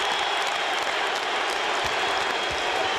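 Basketball arena crowd roaring and cheering with a chanted MVP call, a dense, steady wall of sustained noise from many voices with no gaps, loud and continuous throughout.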